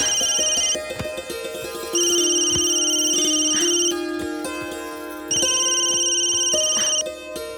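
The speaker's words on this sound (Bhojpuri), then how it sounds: "चाची के फोन" Mobile phone ringtone for an incoming call, a loud electronic melody in repeating bursts with short gaps, playing alone without talk.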